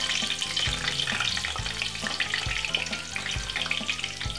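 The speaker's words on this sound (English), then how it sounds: "we're gonna fry that lovely chicken which we just flour and marinated" Floured, marinated chicken pieces fry in hot oil with thyme and spring onion, giving a dense, close sizzle with rhythmic stirring or scraping knocks, and nobody talks.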